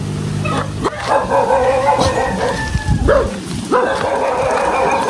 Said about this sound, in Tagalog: mayroon pong aso